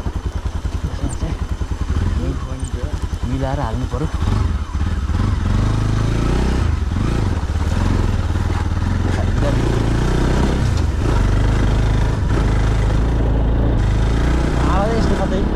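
A motorcycle rides downhill on a village road in Nepal under light braking, its engine drone rumbling and clattering steadily up close while a rider talks over it throughout.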